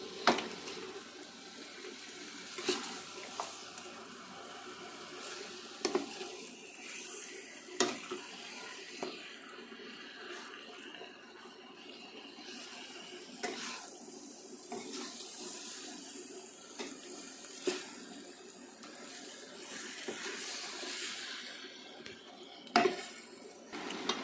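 A spoon scrapes and clinks against a pan while chicken gravy is stirred, giving faint, irregular taps and scraping over a low background hiss.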